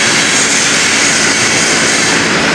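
A Slovak-made industrial machine runs loud and close, giving off a dense, unbroken roar with a steady broadband rush and no pauses or voices.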